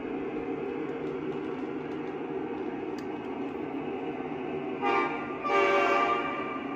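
A long freight train hauled by an ES44 locomotive rolls by with a steady, continuous rumble, joined near the end by a couple of brief horn-like toots.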